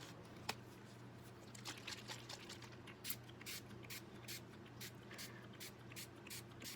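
Quick bursts of color spray hit mixed media paper, repeated short faint hisses in an irregular rhythm over a low background hum.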